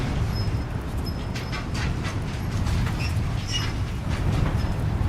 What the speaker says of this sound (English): Monorail goes around that way